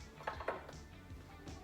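A cup of dry buckwheat groats tipped into a cooking pan, a few faint, quick rattling patters close by.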